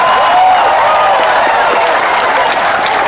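Sustained applause from an audience at an Islamic religious lecture in Indonesia, a dense, steady clapping throughout with no one speaking over it.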